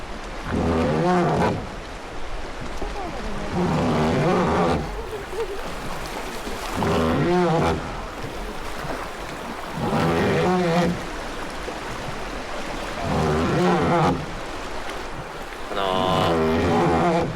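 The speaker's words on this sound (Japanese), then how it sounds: "漕いでる音結構心地よくないですか？" A wooden oar works a traditional Japanese wooden boat on the rushing Tenryū River, giving regular strokes about every three seconds over a constant flow of water, with a voice heard between strokes.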